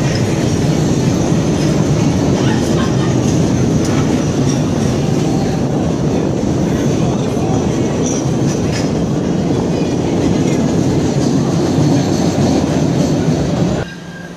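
A one-car Breda-built Type 8 light rail train pulls out of a station, a loud continuous rumble of wheels and rail noise with faint squealing that holds steady, then drops suddenly near the end.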